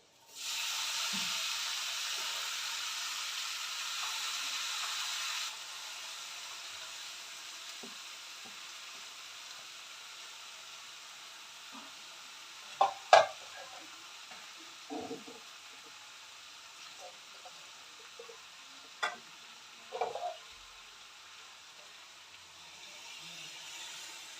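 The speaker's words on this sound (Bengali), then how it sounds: "এবার কড়াইতে দিয়ে দেবো" Small mixed fish such as mourola, freshly coated by hand, hit a hot wok and sizzle loudly at first, then settle into a softer steady fry, with a few sharp clinks of a utensil.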